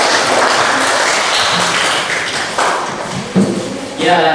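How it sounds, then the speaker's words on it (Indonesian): A room of students applauds for a group that has just finished its presentation. The clapping is steady and fairly loud, with thumps and taps mixed in and voices in the background. "Tepuk tangan untuk kelompok 2."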